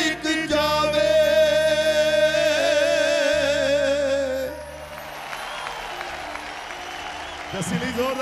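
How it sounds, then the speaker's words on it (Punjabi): Audience applause at a live performance at the PTC Punjabi Music Awards 2015: loud, sustained music gives way midway to a broad wash of clapping from a large crowd that carries on to the end. "ਜ਼ੋਰਦਾਰ ਤਾੜੀਆਂ"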